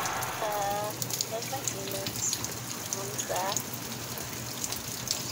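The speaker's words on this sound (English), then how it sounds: "It's raining." Steady rain patters and hisses close by, with voices talking briefly over the constant wash of falling drops.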